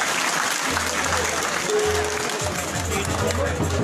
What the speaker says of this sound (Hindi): एक बार कोमल जी के लिए जोरदार ताली बजा दीजिए